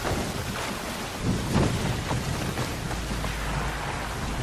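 Steady heavy rain patters over a low rumble of thunder in the video game Assassin's Creed Shadows, a dense continuous wash of noise with no speech.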